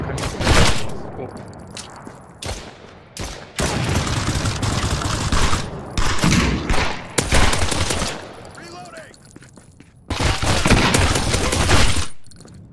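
Automatic gunfire in the VR shooter Contractors, with several long, loud machine-gun bursts separated by short pauses, and players talking between the volleys.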